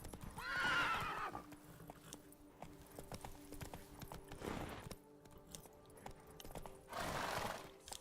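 Roach, a horse in The Witcher 3, clatters along in rapid hoofbeats, broken by three loud neighs and snorts near the start, middle and end, close by, no voices.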